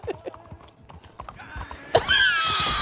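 A horse in the video game Red Dead Redemption 2 gallops with quick clip-clop hoofbeats, then lets out a loud, sharp whinny that rings on near the end.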